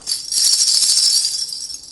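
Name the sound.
jingle bell being shaken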